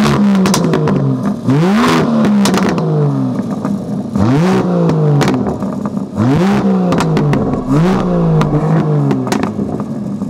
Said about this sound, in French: Je vais mettre quelques coups de gaz et ensuite on va l'essayer.